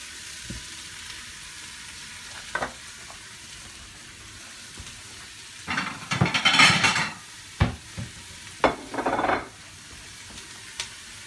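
A pork loin roast goes back into a very hot pot, bringing a few scrapes and clanks of metal and short bursts of searing sizzle amid quieter stretches, with no talking.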